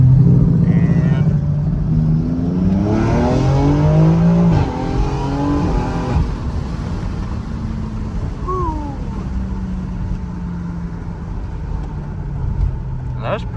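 BMW X4M with an S58 engine on a semi-closed course, pulling hard at full throttle: a loud rising engine roar through the gears, then easing off into a lower drone, with voices talking over it.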